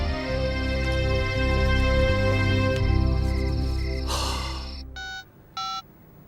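A telephone rings in a Hindi film scene, heard as a loud electronic ringing tone over background music, followed by two short separate rings.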